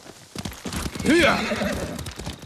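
Horse hooves clip-clopping at a riding pace in Ghost of Tsushima, close and steady, with a whinny rising partway through and voices talking over it.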